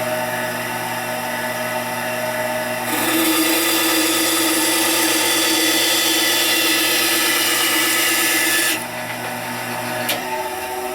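A RIKON 10-305 bandsaw cuts through 3/4 inch maple: the running saw hums, then the blade bites into the hardwood with a loud, steady rasping whine for several seconds before dropping back to the idle hum as the cut ends.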